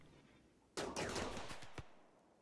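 A burst of automated gun turret fire in the colony game RimWorld, several sharp shots in quick succession lasting about a second, loud and alone, with a lingering tail afterward.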